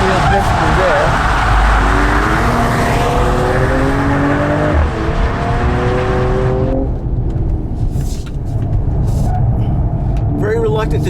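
A 2019 Mercedes-AMG CLS53 driven hard through corners with heavy understeer, its engine loud and close with rising revs and gear changes, then easing off; someone talks over the engine throughout.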